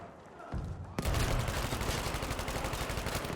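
Dense, loud automatic gunfire in Battlefield V's Fortress mode, a rapid unbroken volley that bursts in after a brief lull and continues rhythmically to the end, close and dominant.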